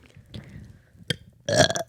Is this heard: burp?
yes